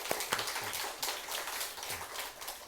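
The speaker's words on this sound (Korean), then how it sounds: "우리 시간에 하나님께 한번 박수로 한번 영광을 드릴게요." A church congregation applauds in a sanctuary, a soft, fairly faint patter of many hands clapping that holds steady throughout, with no talk over it.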